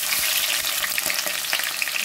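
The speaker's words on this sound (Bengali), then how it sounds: "আমি পেঁয়াজ দিয়ে দিচ্ছি। এটা পেঁয়াজটা একটু ভাজা ভাজা করে নেব।" Continuous crackling sizzle of onions frying in a pan, with light scraping taps of stirring, close and loud, no talking.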